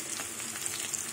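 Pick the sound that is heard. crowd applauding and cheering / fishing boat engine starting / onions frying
onions frying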